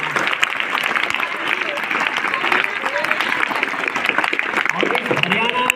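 A crowd at a Patanjali Yogpeeth school event at Aarohi Model School claps in a dense, sustained burst of applause, with a voice talking over it.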